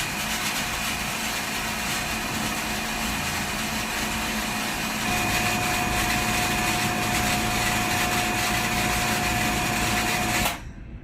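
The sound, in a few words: water pump running with bladder pressure tank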